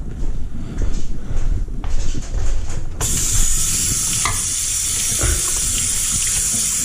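Tap water running over cabbage in a sink for kimchi, a loud, steady rushing stream that starts abruptly after a few seconds of clattering handling noise.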